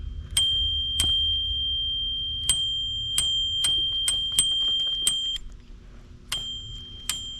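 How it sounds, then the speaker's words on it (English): An e-bike's handlebar bell dings about a dozen times in bright, ringing strikes at an uneven pace, close and clear over a low background hum. "Where's that bell come from?"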